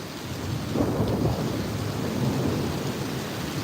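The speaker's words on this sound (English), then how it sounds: "Yeah, you hear that thunder?" Thunder rolls through a heavy rainstorm with very heavy bursts of rain in Effingham, Illinois: a low rumble swells and holds over the steady hiss of falling rain, fairly distant and moderately loud.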